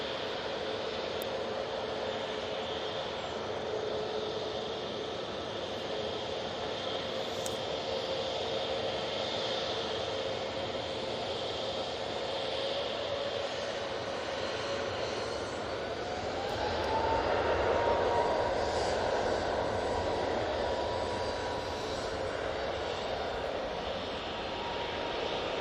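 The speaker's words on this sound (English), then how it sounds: "Off to Dalaman, this A321neo." Airbus A321neo jet departing for Dalaman at Manchester Airport, a steady broad engine roar throughout that swells louder and brighter as it climbs away, with no one talking.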